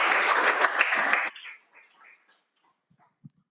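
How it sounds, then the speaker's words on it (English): Audience applause at an MLOps London tech meetup: dense, even clapping from a room of listeners for about a second and a quarter, then cutting off abruptly into quiet room murmur and a few faint stray sounds. "let's have a round of applause for Paolo and Jonas"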